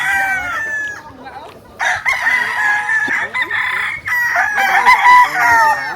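Chickens cluck and a rooster crows repeatedly on a chicken farm, with bursts of crowing close by and overlapping calls from several birds throughout.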